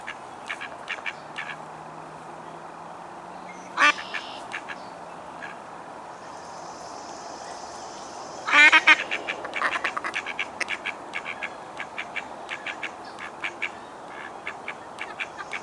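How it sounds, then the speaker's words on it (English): Mallard ducks in High Park giving a few scattered quacks, including one sharp call and a louder burst of several calls midway, then a run of softer clicks and chatter, nearby over a faint outdoor hiss. "Enjoy some quacking."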